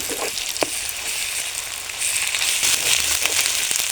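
Crushed garlic, ginger and cumin paste sizzles hard in a pan of browned onion for a chicken curry, a steady loud frying hiss with scattered crackles and pops that grows stronger about halfway through.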